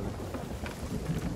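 A thunderstorm rolls in the pirate game Sea of Thieves, steady rain hissing with low rumbling thunder underneath, faint and continuous throughout.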